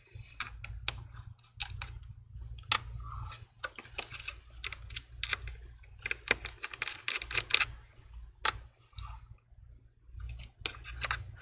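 Small screws are removed from an internal iPhone bracket, giving quiet, close, irregular ticks and clicks from a small screwdriver and metal parts. The sounds come in scattered bursts over a low hum.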